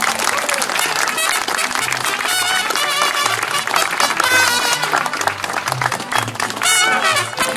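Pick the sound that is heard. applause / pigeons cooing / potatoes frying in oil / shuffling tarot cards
applause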